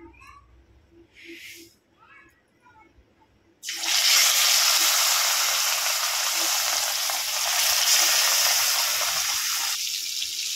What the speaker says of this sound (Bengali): কড়া বসিয়ে দিয়েছি, তেল গরম হয়ে গেছে, এবারে মাছগুলো ভেজে নেব